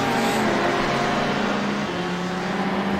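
Race car engine and exhaust roar from a Porsche GTE car at Sebring in the iRacing video game, a loud continuous drone with a steady pitch that shifts slightly partway through.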